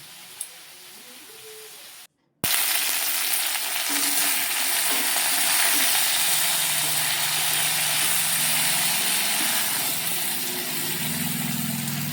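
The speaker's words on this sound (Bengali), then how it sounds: "ওদিকে ভেন্ডিগুলো ভাজা হয়ে যাচ্ছে" Okra (bhindi) frying in a pan, a steady close sizzle after a short quiet gap near the start, with faint low rumbling beneath and no talking.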